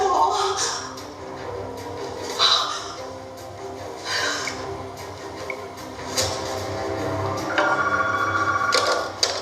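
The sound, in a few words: telephone ringing unanswered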